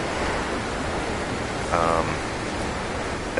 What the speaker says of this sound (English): Wow, the freezing rain is coming down.